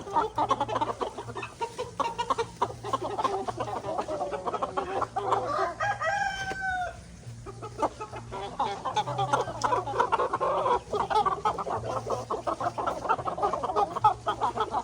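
Chickens cluck steadily in a field, with a rooster crowing midway among busy overlapping farmyard calls and some faint human voices in the background.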